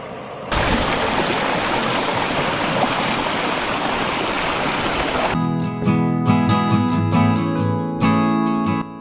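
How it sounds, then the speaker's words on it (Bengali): Water of the Reli river in Bidyang Valley, Kalimpong, rushes in a steady, full wash of noise, joined after about five seconds by loud tonal music layered over the flow. "এখন নেমে পড়েছি রেলি নদীতে।"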